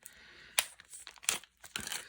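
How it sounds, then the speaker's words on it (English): Paper packaging being opened with scissors, giving three short crinkling, tearing bursts spaced about half a second apart, close and fairly quiet, with no talking. "I'm just going to grab a pair of scissors and open the package"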